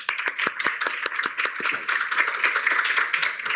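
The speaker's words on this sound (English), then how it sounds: "Can we give our two speakers, Christopher and Yvette, a round of applause?" A room of audience members clapping in a round of applause for two speakers at a live recording at UCT, crisp individual claps densely overlapping in a steady, close patter.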